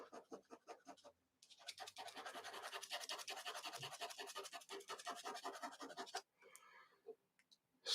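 Pencil laying down a coarse, dark shadow on paper for a Conan drawing, producing quick, close, rhythmic scratchy strokes in a dense run after a few separate scratches, faint and without talk.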